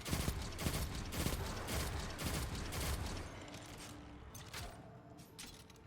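Leviathan's Breath bow shots fired in Destiny 2 against a barrier champion in a Lost Sector come as a dense series of loud, sharp impacts and mechanical clatter that thin out toward the end, with no talking.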